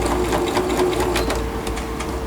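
Sewing machine stitching steadily, a close, loud mechanical whir with a fast regular needle rhythm across the whole moment and no talking.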